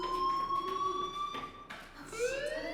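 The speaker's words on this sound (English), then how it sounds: "Do you hear that fire alarm?" A fire alarm wails in the video game Life is Strange, its electronic tones repeating and sweeping in pitch, loud and continuous.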